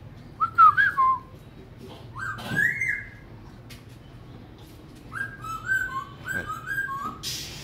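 A person whistles an imitation of laughingthrush song, giving several short, rising and warbling bird-like phrases separated by pauses, loud and close against a quiet background.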